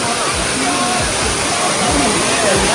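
A waterfall roars in a loud, constant rush of broadband white water close at hand, with voices talking over it.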